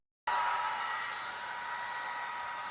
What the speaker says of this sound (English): get my hair dryer and start drying these out.